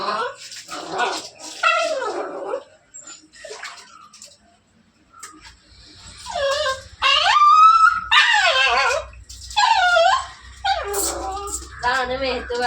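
A puppy whimpers, yelps and howls in rising cries while water is poured over it during a bath, with splashing water and people talking nearby.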